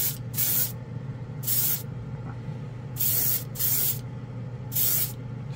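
A spray can lays down a quick coat of color shift paint in five short, evenly spaced hissing bursts. The bursts are close and clear, with a steady low hum underneath.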